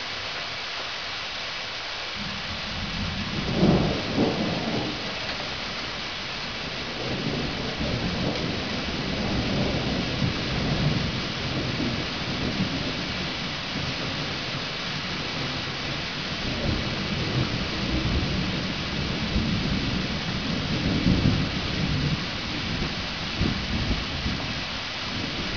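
A thunderstorm with steady rain falling on surfaces, broken by thunder rumbling near the start and again later, loud and continuous throughout with no talking.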